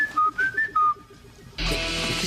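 A short melodic whistled tune of several rising and falling notes, fairly close and clear, then cut off abruptly by a loud burst of broad noise.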